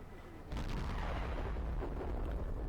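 A T71 American scout tank's cannon fires in a video game: a sudden heavy boom followed by a loud rumbling tail that stays strong to the end, with faint talk beneath.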